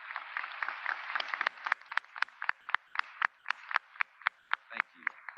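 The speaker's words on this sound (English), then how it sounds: "Let's give them a hearty round of applause." Audience applause honors faculty standing at a university new-student convocation. Sharp, rhythmic claps come through fairly faintly, with a distant hall-like quality.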